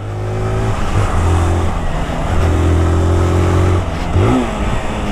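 A yellow 2022 Honda Titan 160 motorcycle engine revs loudly and close while being ridden, climbing and holding through gear changes with brief dips, and no voices.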